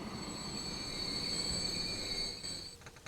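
A train pulling into a station in the Transport Fever game: a steady rolling rumble with high wheel squeal and a thin whine, fairly loud and alone, easing off near the end with a few soft clicks.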